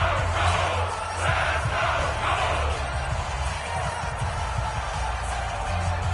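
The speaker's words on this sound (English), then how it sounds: "The crowd getting into it as we come up on a big third down." Stadium crowd in a PS4 football video game roars and cheers steadily, a dense, continuous wash of many voices swelling on a big third down, with commentary murmuring beneath.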